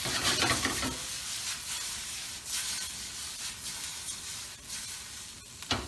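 Shrimp sizzling steadily in a hot carbon steel wok, a loud continuous frying hiss with occasional stirring scrapes and crackles, no talking.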